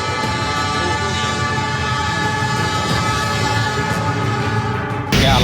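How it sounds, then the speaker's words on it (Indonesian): A train speeds over a level crossing with a loud, continuous rumbling roar and steady wheel noise that holds for several seconds, then shifts abruptly near the end. "Hanya dalam hitungan detik kereta api melintas kencang tepat di belakang mereka."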